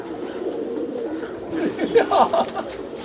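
Flying pigeons kept at a rooftop loft coo softly in a few low, rolling calls, with faint voices and background noise around them.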